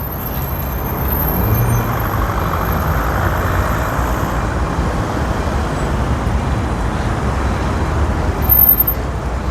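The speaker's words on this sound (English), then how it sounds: "And this looks like a Škoda trolley bus." Traffic rumbles steadily along a busy five-way intersection in Sofia as a Škoda trolley bus passes, a low broad drone of vehicles with a brief high hiss near the end, no talking.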